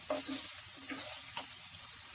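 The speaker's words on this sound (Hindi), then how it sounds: "प्याज हमारी अच्छे से फ्राई हो रही है।" Finely chopped onion and potato fry together in a pan over a high flame, a soft steady sizzle punctuated by a few quick scraping stirs in a short, fairly quiet stretch.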